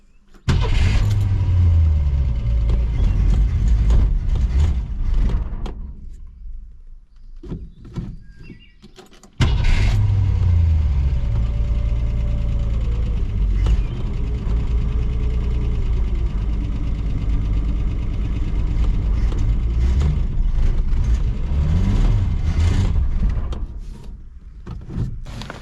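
A Ford Falcon engine running with a low rumbling idle, briefly dropping and restarting, with whirring mechanical tones rising and falling over the steady hum; the engine shuts off when trying to back up.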